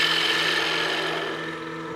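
A woodturning lathe tool takes a bevel-riding cut on a spinning wooden utility box, a steady close raspy scraping hiss that holds for two seconds and eases off slightly.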